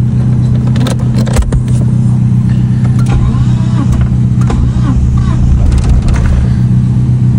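A 1992 Mitsubishi Galant GTi engine starts and runs roughly, a loud, continuous low rumble with uneven surges, while metallic jingles and clicks sound close by.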